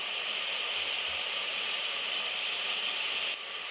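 Chili powder sautéing in a pan for an ash gourd sambar, a steady close sizzling hiss that holds evenly throughout and drops slightly at the very end.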